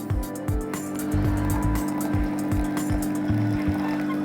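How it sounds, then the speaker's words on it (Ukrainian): A Nivona 8101 coffee machine brews espresso with a steady, close pump drone and a rapid train of rhythmic knocking pulses, while liquid trickles and gurgles underneath. "Отже, варимо еспресо."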